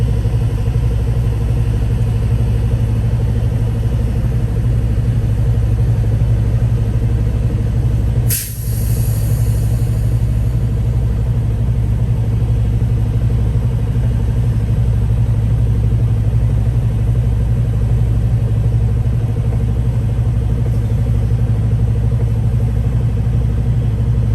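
A parked truck's engine idles steadily with a deep, constant rumble and hum from close by, broken once partway through by a brief sharp click or transient before the drone carries on unchanged.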